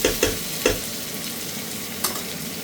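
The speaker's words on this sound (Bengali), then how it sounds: "পেঁয়াজটাকে একটু ভেজে নিয়ে তারপর এর মধ্যে আলু এবং ঝিঙেটা দিয়ে দিতে হবে" Onion fries in a pan with a continuous close sizzle, punctuated by several sharp scraping stirs near the start and one more toward the end; no voices.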